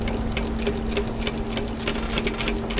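A sewing machine stitches a pin stitch along a fabric edge, running slowly with an even, rapid mechanical ticking and a steady motor hum, close by.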